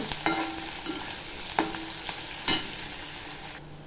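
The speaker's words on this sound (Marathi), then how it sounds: "कांदा चांगला तेलामध्ये तळून घ्यायचा" Onion frying in oil with green chillies and curry leaves for ragi khichdi sizzles steadily up close, broken by a few sharp stirring clinks and scrapes of a spoon against the pan.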